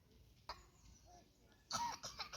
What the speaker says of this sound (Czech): Tam pán kašlal.